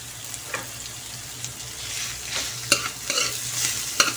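Ground pork paste fries in a pan for ginisang monggo, a steady close sizzle broken by a spatula's scraping strokes and a few sharper clinks against the pan.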